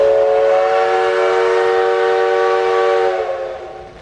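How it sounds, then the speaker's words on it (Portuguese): A freight train horn blares a long, loud, steady chord nearby as the train arrives on the Ferrovia do Aço, then fades out at the end. "o primeiro trem tá chegando aqui agora"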